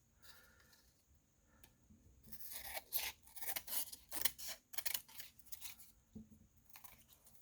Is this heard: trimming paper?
yes